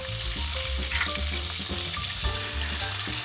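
Minced garlic, Italian seasoning, oregano, red pepper flakes and ground black pepper fry and are stirred in a pan, giving a steady, dense sizzle with no one talking.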